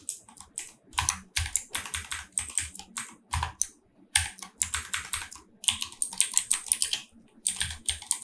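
Keys clatter on a computer keyboard in quick, uneven bursts of close, crisp taps with short pauses between runs, and no voices.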